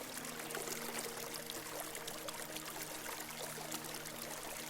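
River water flowing steadily, a soft continuous rushing and trickling wash that stays even and fairly faint throughout with no voices.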